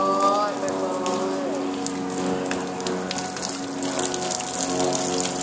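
Ice-cold water pours from a bucket over a person's head in a continuous splashing gush for several seconds, with tonal humming and voices faintly under the flow.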